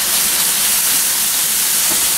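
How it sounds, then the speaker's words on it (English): Hamburger meat and onions browning in a pan give a steady, loud, hissing sizzle that continues without a break, with no talking. "I've got my hamburger and my onions browning"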